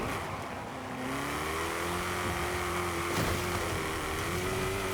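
Sports car engine in the racing game Forza Horizon 5, droning steadily with a rising whine as it runs through gears, loud and continuous with no talk.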